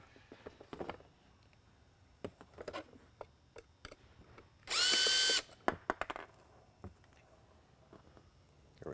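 A power screwdriver gives a loud, steady whir of about half a second as it backs a stainless steel screw out of a siren unit's housing, up close. Scattered clicks and handling clatter come before and after.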